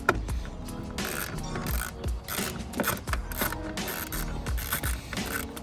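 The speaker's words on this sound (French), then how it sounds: "avec une piquet et ma douille en vis, je vais venir simplement ces deux vis-ci, je vais venir les desserrer" A ratchet and socket loosen screws inside a Volkswagen Scirocco door during a window regulator repair, giving a fast, continuous clicking and rattling close to the listener, without speech.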